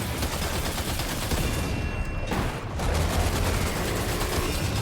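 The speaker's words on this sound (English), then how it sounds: "I was saving this machine gun. I think I looted it from the camp, and it is insane." Continuous rapid machine gun fire in the video game Death Stranding 2, loud and close, a dense unbroken rattle with one short pause midway before it resumes.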